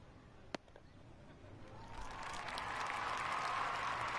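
Crowd cheering in a Cricket 19 video game, starting quietly and swelling into a broad, sustained roar of cheers and applause that keeps building to the end, with a sharp bat-like knock near the start.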